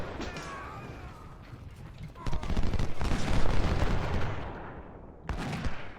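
Cannon fire and musket volleys in the Civil War strategy game Ultimate General: Civil War: a sharp report opens a loud, sustained rumble of fire that swells mid-clip, cuts off briefly, then bursts back in near the end.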